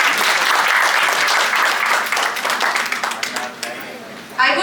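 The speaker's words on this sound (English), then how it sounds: "Welcome her with a huge round of applause." Loud, dense applause from a conference audience at a GST Day celebration, gradually thinning toward the end, with voices beneath it.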